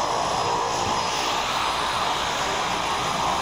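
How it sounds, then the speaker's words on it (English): A propeller airplane at a skydiving airfield roars steadily nearby, a loud, continuous engine drone with a broad rushing hiss and a sustained hum that stays even throughout. "I think that's the plane we actually get on"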